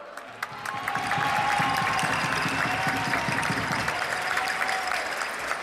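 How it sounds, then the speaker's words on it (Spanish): A large audience claps steadily in sustained applause for the Queen of Burgos at her proclamation, a dense wash of many hands that swells early and holds loud throughout. "Un aplauso."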